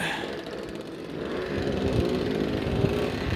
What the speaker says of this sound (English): your motorbike sounds like shit